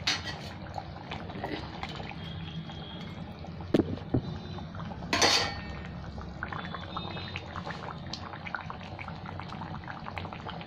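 Fish curry with potato and tomato simmering in a pot on a gas stove, a steady soft bubbling and hiss throughout with a couple of brief clatters from utensils.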